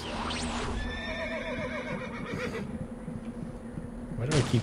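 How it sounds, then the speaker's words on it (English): A horse whinnies in the first-person shooter Star Trek Voyager: Elite Force, a loud descending neigh with harmonic trills up front, followed by a lower game soundscape and a second brief burst near the end. "Why do I keep hearing horses?"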